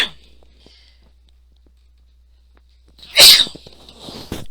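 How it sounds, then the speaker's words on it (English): One loud, close human sneeze bursts out after a few seconds of near silence in a quiet room during a recorded accounting lecture, followed by faint rustling. "I'm going to sneeze."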